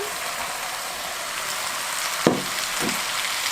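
Vegetables with peppers fry in a pan for an Albanian chicken and vegetable stew, a steady close sizzle throughout, broken by a sharp clack near the end and a brief stir.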